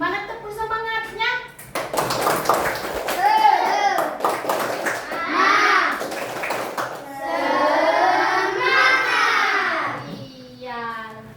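Schoolchildren in a classroom perform a rhythmic spirit clap, patterned claps mixed with loud chanting voices in bursts, with a teacher speaking before and after.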